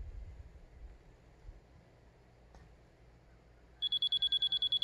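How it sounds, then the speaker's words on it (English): A laser level receiver held against a post on a DIY container-home foundation site gives a rapid run of loud, evenly spaced electronic beeps near the end, after a quiet stretch of outdoor background. "move it up and down until this thing starts beeping, which means I've hit the location of the laser level"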